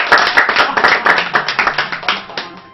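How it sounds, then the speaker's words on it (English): Applause from a party audience at a Final Fantasy 6 charity marathon event, close and loud clapping with sharp, regular claps that gradually thin out and fade over a few seconds. "You deserve a round of applause for all the hardest work you put in."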